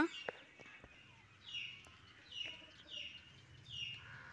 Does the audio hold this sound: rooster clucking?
yes